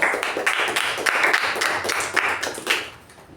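Audience at a Toastmasters club meeting clapping to welcome a speaker, a brisk burst of many hands that stays steady and then tapers off quickly near the end.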